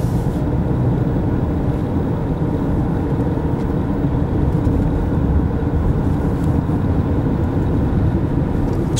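A 2014 Jeep Cherokee drives along a curvy hill road, its steady low engine drone and road rumble heard from inside the cabin with no one talking.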